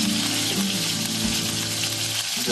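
Lightly salted cauliflower florets fry in hot oil in a pan for aloo gobi. The sizzle is loud, close and dense, with a steady crackle throughout and no voices.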